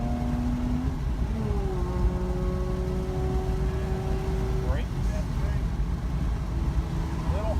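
A car drives laps at the Mid-Ohio Sports Car Course, its engine a steady droning hum with pitch slowly shifting as it accelerates and eases off, heard from inside the car at moderate level.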